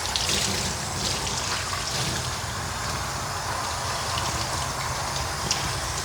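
Steady running water from a sprayer rinses soap off a Shih Tzu during a grooming bath, a continuous close hiss and splash with no talk.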